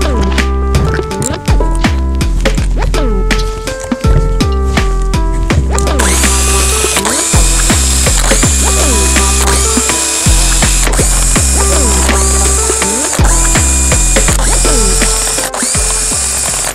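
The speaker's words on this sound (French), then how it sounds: "on va débloquer les vis pour ensuite les dévisser et on pourra procéder à l'ouverture." A ratchet wrench loosens and unscrews the crankcase screws on a Minarelli AM6 moped engine, giving loud, close, rapid clicking bursts repeated many times with short pauses and clanks between them.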